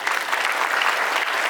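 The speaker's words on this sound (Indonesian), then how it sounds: "Kita tepuk tangan dulu dong buat teman-teman." Students at a school event get a short round of dense clapping from a crowd, steady and loud throughout.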